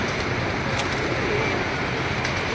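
Pigeons kept by a fancier coo in a soft, low, steady stream over a constant hiss of background noise, with no clear talking.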